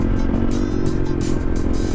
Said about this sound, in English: He got a YZ 450.